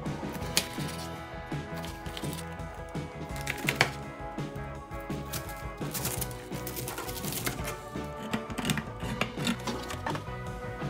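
Vegetables are diced on a cutting board with a knife, a close, fast run of sharp chops and taps that continues steadily, with no voices.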